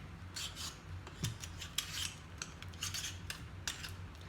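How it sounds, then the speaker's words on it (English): A potato peeler scraping the skin off a butternut squash in a home kitchen, giving repeated short rasping strokes in an irregular rhythm, close and fairly quiet, with no talking. "For me, that's the best way to peel it, is with a potato peeler."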